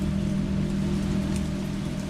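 Rain in the video game Resident Evil 3 Remake, a constant hiss of falling rain under a low steady hum, even and unbroken.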